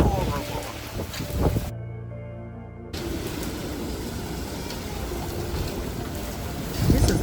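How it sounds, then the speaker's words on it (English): Strong hurricane wind roars steadily outdoors in a residential yard, with heavy broadband buffeting and gusts on the microphone, interrupted by a short dropout, and a person talks over it at the start. "the wind is horrible"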